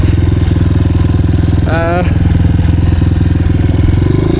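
Honda CRF 230F dirt bike engine idling steadily and loud up close on a mountain trail, a constant throbbing rumble throughout, with a brief voice over it.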